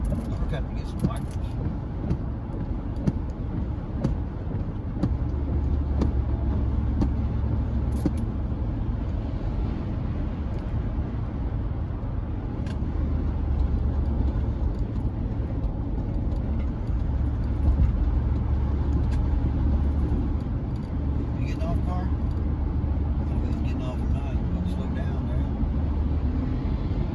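A car with its catalyst coming apart inside the Y-pipe exhaust drives home through traffic. A continuous low engine and road drone fills the cabin, steady throughout with faint scattered knocks.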